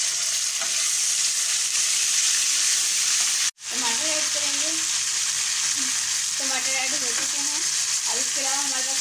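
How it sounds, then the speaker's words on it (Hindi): Ginger garlic paste fries in a pot for fish biryani, making a loud, steady hiss broken by a brief sudden dropout, with a voice talking faintly over the sizzle. "अब इसमें डालेंगे हम लोग अदरक लहसुन का पेस्ट ऐड करेंगे।"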